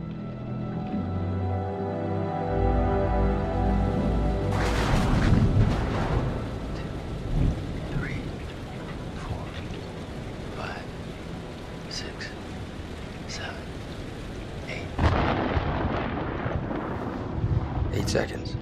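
Thunder from a distant storm in the video game Man of Medan, heavy rumbles at the start and again near the end over steady rain, with voices talking in between.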